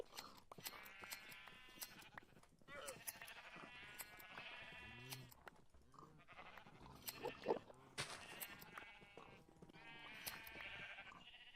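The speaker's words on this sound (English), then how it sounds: "Hello there, you 50 sheep." Minecraft sheep bleating from a large flock in the video game, many overlapping baas and short calls coming one after another, some near and some quieter, with no talk over them.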